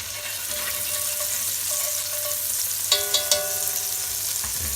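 A dollop of butter sizzling and melting in a hot dish after braising steak, a steady close frying hiss with a few small clinks near the end and no speech.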